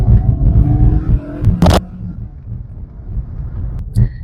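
Mazda Demio (Mazda2) engine pulling hard in sports mode on a road drive, a low steady rumble with rising drone, a brief sharp noise near the middle and a short voice near the end.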